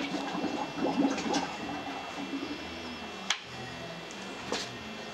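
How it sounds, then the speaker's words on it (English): A pump fills a closed geothermal ground loop with antifreeze, giving a steady watery rush and churn with faint rhythmic ticking, nearby and continuous, broken by a sharp knock partway through. "We're gonna plug in the pump and fill it up with antifreeze."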